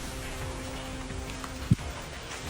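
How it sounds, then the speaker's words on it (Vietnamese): Rain begins falling on a tropical island in Indonesia, a steady soft hiss of drops on surfaces with one brief sharp knock partway through, no voices. "Trời bắt đầu mưa, quay về thôi."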